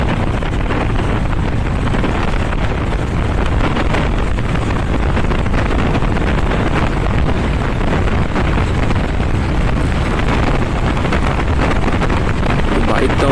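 A motorcycle cruising on a highway makes a constant loud roar heavily buffeted by wind noise, with no breaks from start to finish.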